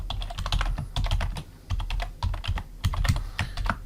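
Quick bursts of typing on a computer keyboard as a search phrase is entered into Bible study software, with clicky keystrokes in uneven runs broken by short pauses, close and alone.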